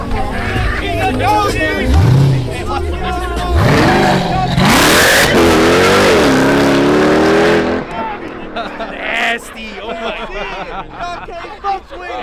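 Jeep Trackhawk and Audi S6 engines roar and rev hard during a street race, loud sweeping engine pulls rising in pitch, with shouting bystanders and crowd chatter throughout, the engines fading toward the end under voices.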